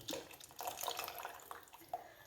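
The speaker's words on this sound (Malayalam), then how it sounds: "പുളിവെള്ളവും ഒഴിച്ചു കൊടുക്കാം" Tamarind water is poured into a pot of lentil rasam, a close, soft splashing pour with small gurgles and drips that rise and fall over a couple of seconds.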